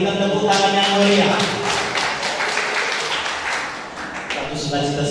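A crowd at a 25th-anniversary celebration applauds for the patron, with dense clapping that rolls on for several seconds under a loud voice speaking over it.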